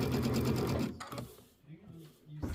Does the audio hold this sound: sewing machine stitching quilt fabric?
yes